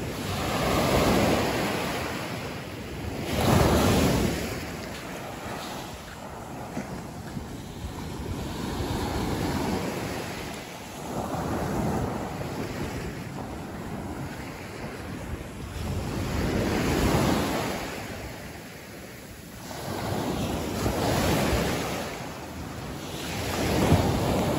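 Ocean waves roll onto a beach near turtle nests, swelling and breaking in slow surges every few seconds, with heavy wind buffeting the microphone throughout.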